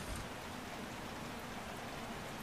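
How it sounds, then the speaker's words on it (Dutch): Heavy rain falls at the Mid-Ohio circuit during a Formula Renault 3.5 race, a soft, continuous, even hiss of downpour heard at a distance with no voices. "Wat regent het hard, zeg."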